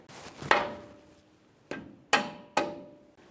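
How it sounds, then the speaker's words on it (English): A rubber mallet taps four times on a steering knuckle of a 2015–2020 Ford F-150 to free the tie rod end, giving close, sharp knocks with ringing decays at irregular intervals in a quiet space. "you could use a rubber mallet along this area of the knuckle, tapping in this area, causing vibration to break this free"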